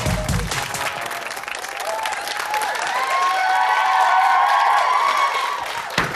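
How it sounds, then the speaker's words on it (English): A studio audience on a Big Brother spin-off show applauds and cheers loudly and continuously, dense clapping with shouts rising over it, fairly close and sustained throughout. "thanks for the cheering anyway"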